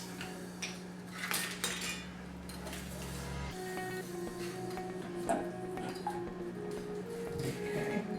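A knife fillets a pepper on a cutting board, giving a series of close clicks and taps of the blade against the board, with light rustling between strokes and no voices.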